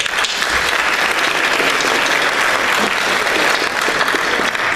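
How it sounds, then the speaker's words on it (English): Applause from a large audience at a town hall meeting on homelessness, a dense, steady wash of clapping that carries loudly and evenly throughout with no talk over it. "I want to have you give yourself a round of applause for this really magnificent turnout"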